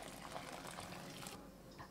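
Water pours into a pan of rice with browned onions and chickpeas, a steady gushing fill lasting about two seconds, close and fairly quiet, with no talking.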